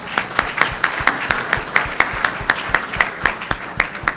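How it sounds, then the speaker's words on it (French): A small audience claps after a speech in a steady, regular rhythm, roughly four or five claps per second, with faint murmuring in the background. "Je vous demande de l'applaudir encore une fois."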